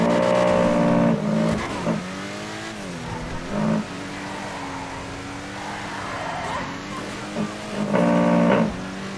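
A new car in GTA V Online revs and accelerates hard, engine pitch climbing through several gear shifts with brief tire squeals, loud and close, with faint talk underneath.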